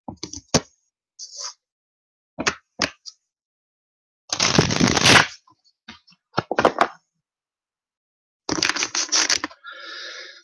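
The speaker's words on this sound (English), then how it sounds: "I'll do one more powerful shuffle." A tarot card deck is shuffled close by in short, crisp bursts of riffling and patting, separated by quiet gaps, ending with one longer flurry.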